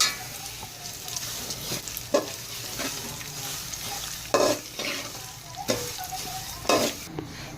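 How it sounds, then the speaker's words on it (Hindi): Vermicelli stirred and fried in ghee in a pan, with a steady soft sizzle broken by several louder scraping stirs of the spoon at irregular intervals, heard close up with no talking. "अब हम इस सेवइयों को भूनेंगे इस घी में।"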